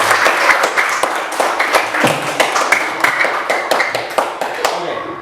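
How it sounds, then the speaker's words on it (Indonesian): Schoolchildren in a classroom at STK St Yakobus in Merauke clap for themselves, the crisp, busy applause fairly close and continuous, with some voices mixed in underneath. "Tepuk tangan untuk kalian."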